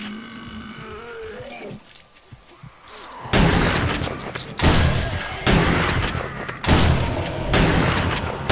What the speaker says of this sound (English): Shots all around